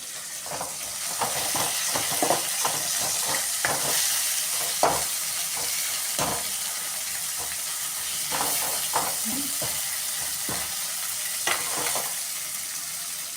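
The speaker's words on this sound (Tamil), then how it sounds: "போட்டுட்டு நல்லா இது மாதிரி கிளறி விட்டுக்கோங்க. இது எல்லாமே நல்லா வதங்கணும்." Onion, tomato and ginger-garlic sauté in a pan for a pakoda vadakari curry, with a steady close sizzle throughout and repeated scraping, clacking strokes of a spoon stirring against the pan.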